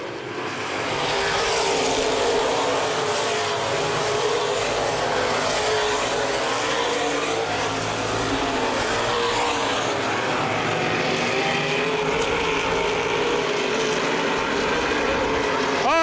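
Open wheel modified race cars roar around the oval at Baer Field Speedway in a dense, continuous engine drone with shifting pitch as the pack passes, with faint commentary over the noise.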